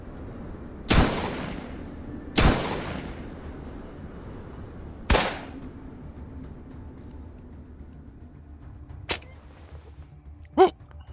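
Gunfire in the video game Atom RPG: three loud, sharp shots spaced a second or two apart, each with a fading tail, followed by two fainter, shorter snaps.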